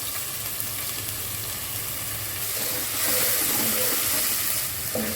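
Ginger garlic paste sizzles in hot ghee in a pan while ghee rice is being cooked, a loud steady frying hiss that swells partway through and stays close up.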